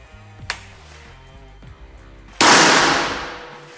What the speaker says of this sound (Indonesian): Tembakan yang keempat.